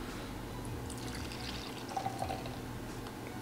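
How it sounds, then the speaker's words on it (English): Frothed 2% milk pours from a VAVA electric milk frother into a cup, a steady close liquid pour with light trickling and a few small splashes. "So just have to grab it up like that and just pour it out like this."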